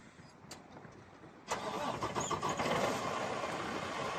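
A 2019 Freightliner Cascadia 126 truck's diesel engine cranks briefly, then catches and settles into a steady, rumbling idle, recorded close by.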